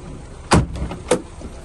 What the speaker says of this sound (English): Look at them door shuts